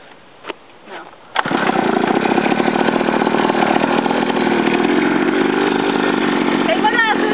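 A mini motorcycle's small engine catches after a couple of pulls and settles into a loud, busy, rattling idle close by, with voices in the background.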